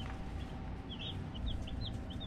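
Baby meat chicks, one of thirty, cheep in short high peeps scattered over about a second, fairly faint against a steady low background hum, with no talk.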